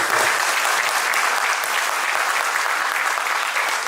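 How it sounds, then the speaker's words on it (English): Families at a community gathering for Sri Chinna Jeeyar Swamiji's visit in Gloucester burst into loud, bright, continuous applause, a thick even spray of claps lasting the whole few seconds. "So big round of applause for all the parents"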